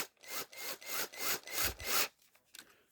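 Screws being driven back into steel and aluminum parts of an Associated MT8 RC center differential, giving about six rhythmic rasping bursts up close, then a quieter trailing scrape.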